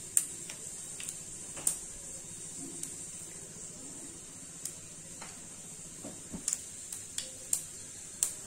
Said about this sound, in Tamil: ஆயில் ஹீட் ஆனதும் இதுல கடுகு ஆட் பண்ணிக்கலாம்.